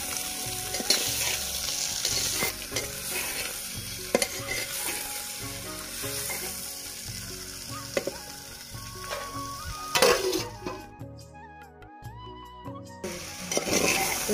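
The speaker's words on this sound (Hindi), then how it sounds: "तो देखिए 5-7 मिनट अच्छे से प्याज को भूनते भूनते हो गया है" Onions and whole garlic cloves sizzle and crackle in a pot for a desi handi chicken curry, with repeated stirring and scraping close up and no talking.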